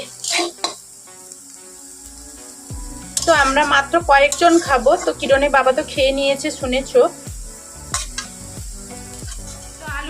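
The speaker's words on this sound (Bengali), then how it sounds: "এখন কিন্তু আমরা আলু ভেজে নিচ্ছি" Potatoes frying in a pan in a home kitchen give a steady sizzle with stirring clinks, with someone talking over the cooking and tonal background music throughout.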